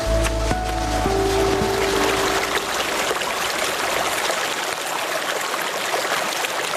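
Mountain stream in the Rocky Mountains rushing steadily over rocks, a dense continuous wash of water heard close and alone, with a faint low hum fading out early on.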